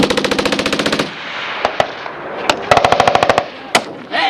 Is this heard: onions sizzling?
no